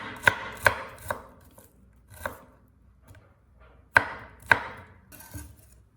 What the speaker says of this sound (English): Chop finely 2 cloves of garlic to boost the flavor.